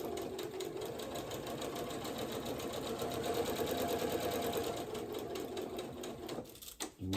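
A sewing machine stitching a quarter-inch seam on a braided twist placemat, running in a continuous fast whir close by, then slowing into a few uneven stitches at the end.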